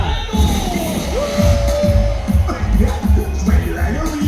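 A crowd at a Disneyland Paris Halloween party cheers and applauds for a DJ, a loud continuous roar with scattered whoops and claps, and an announcer's voice briefly audible over it.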